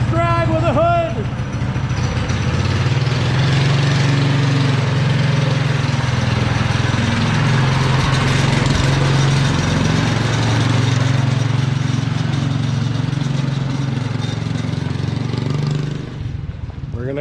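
A Montgomery Ward racing mower engine running steadily with a droning, rough tone as it rolls past on a test ride, loud and continuous before fading near the end, with people talking over it.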